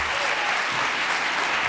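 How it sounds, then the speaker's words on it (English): Short burst of steady audience applause for Senator Graham, dense clapping at an even level throughout. "Big round of applause for Senator Graham."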